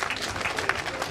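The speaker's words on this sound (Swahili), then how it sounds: "Naomba wote tumpigie makofi" An audience at a miners' meeting claps in a dense, steady round of applause for the brief moment.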